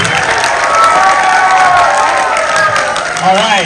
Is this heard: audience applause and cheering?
yes